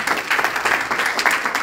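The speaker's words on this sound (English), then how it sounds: "I think this deserves a round of applause." An audience claps for a bank announcement in Eswatini, a dense, even round of applause from many hands sustained throughout at moderate volume.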